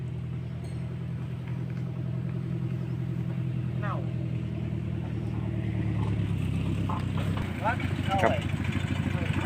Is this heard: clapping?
no